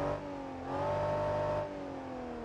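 A yellow jeep's engine in the BeamNG.drive racing game revs up once, holds a higher whining pitch, then eases back to idle, close and alone.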